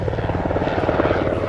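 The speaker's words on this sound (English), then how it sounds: "take a close look at the underside of this helicopter as they fly by" A Royal Canadian Air Force CH-148 Cyclone helicopter passes overhead at an air show, its rotor chop pulsing steadily and loudly in a dense continuous roar throughout, with no voices.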